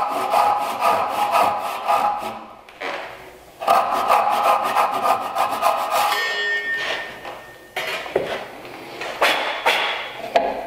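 A Japanese pull saw cuts a wooden tenon in quick rhythmic rasping strokes, close and clear, with brief pauses between two runs of sawing followed by softer scraping and small knocks.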